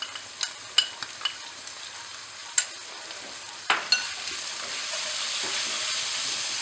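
Maggi noodle seasoning and soy sauce being stirred in a pan, a soft steady sizzle with a few sharp scraping clicks of the spoon against the pan, close and moderately quiet, no talking.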